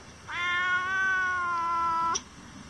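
A cat greeting someone outdoors, with one drawn-out, clear meow lasting nearly two seconds, loud and close, with no talking over it.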